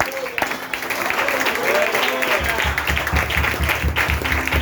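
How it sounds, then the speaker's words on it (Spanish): A church congregation at a sermon applauds together, and the clapping swells and continues as a steady crowd sound. A preacher's voice carries over it. "Dale un aplauso al Padre."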